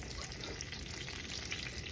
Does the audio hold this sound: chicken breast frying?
yes